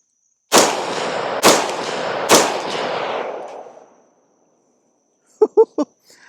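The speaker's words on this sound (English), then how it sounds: "First rounds on the Ruger SFAR." Three loud, sharp rifle shots from a Ruger SFAR 16-inch rifle in .308 Winchester, spaced about a second apart, each trailing a long echoing decay outdoors, followed by silence and then three short, quick faint clicks or chirps.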